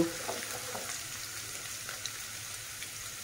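Colocasia stem and jackfruit seeds frying slowly in a pan, a steady soft sizzle with a few faint clicks, no voices.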